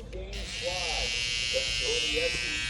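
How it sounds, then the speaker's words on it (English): Babyliss Pro Gold FX cordless hair trimmer running close up, a steady high-pitched electric buzz held throughout, with someone talking over it. "These are Babyliss Pro Gold FX trimmers."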